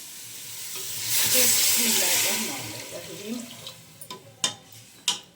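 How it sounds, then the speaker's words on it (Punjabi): Water tipped into a pot of simmering black chickpea curry, a rushing pour and bubbling swell up loudly, then settle into a few sharp clanks and scrapes of a utensil against the pot. "ਇੱਕ ਡੱਬਾ ਹੋਰ ਪਾਣੀ ਦਾ ਪਾ ਦਿੰਦੇ ਹੈਗੇ ਆ"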